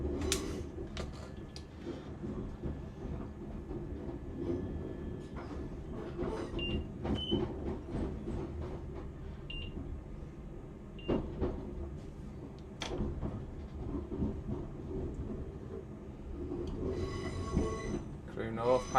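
Train pulling out of Crewe station on the Crewe to Holyhead line at low speed, with continuous rumble of wheels on rails, clicking joints and a burst of high squealing near the end.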